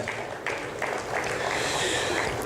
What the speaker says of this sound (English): Please give them a round of applause if we can.